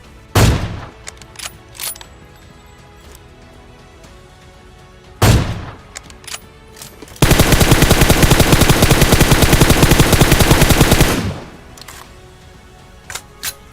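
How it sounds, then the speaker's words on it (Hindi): Gunfire in the video game PUBG: two isolated loud single shots, then a sustained rapid automatic burst lasting about four seconds, close and dominant, with quiet game ambience between. "अब यार मैं शॉट तो मारता हूँ"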